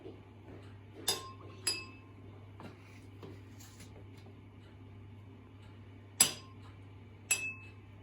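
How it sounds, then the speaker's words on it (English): Teaspoons of bicarbonate of soda are added to water in a quiet room, heard as several light clinks of a spoon against a container spread over several seconds, against a low steady hum. "we are going to put the bicarbonate of soda into the water to dissolve that"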